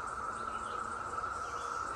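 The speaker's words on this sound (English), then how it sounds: "the cicadas are out now, and it's just like a massive white noise" A dense, steady cicada chorus rings out like a massive wall of white noise along a stretch of the Appalachian Trail in Virginia, constant and even, with no talk.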